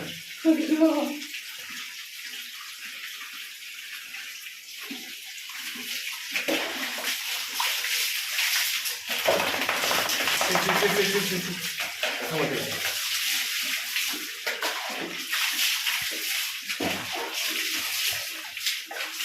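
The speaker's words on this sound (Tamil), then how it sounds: "பாத்ரூம் போட்டு குளிப்பாடுறாங்க" Water splashing and running in a bathroom while a street puppy is bathed, an uneven tap-like stream with sloshing bursts that rise and fall, close to the microphone, with faint voices now and then.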